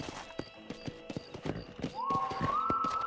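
A horse in Red Dead Redemption clip-clops at a walking pace, with distinct hoof taps over quiet ambience, joined near the end by a rising tonal whinny-like sound.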